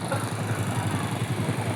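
A rare 1940s Blackstone engine runs at a coffee factory in the Philippines, giving off a loud, steady low throb with a fast, even rhythmic pulse close by.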